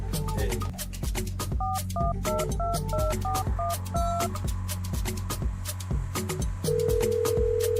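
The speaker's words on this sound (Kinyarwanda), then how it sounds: "ndashaka ko mpamagara telefone yanjye nkamenya ahantu iherereye" A phone keypad beeps through a quick series of dialing tones over background music, then a steady tone holds near the end.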